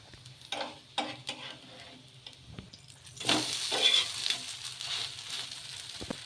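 A mung dal and oats dosa fries on a pan with a soft, steady sizzle, punctuated by light ticks and scraping, and the sizzle swells louder partway through.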